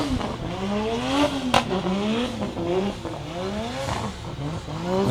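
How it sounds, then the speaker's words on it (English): At a Meremere Drift Park drift event, a BMW M4 drift car with a 2JZ engine revs hard while its tires squeal continuously, the engine note rising and falling in repeated sweeping waves over a loud, steady roar. "A lot of horsepower to try and tame there in the Max Civil BMW M4."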